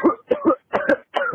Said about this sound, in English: I didn't mean to make you cough, sir.